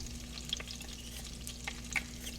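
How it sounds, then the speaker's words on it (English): Garlic frying in a pan for linguine alle vongole, a low steady sizzle with a few soft stirring clicks, close and fairly quiet with no talking. "garlic is going in"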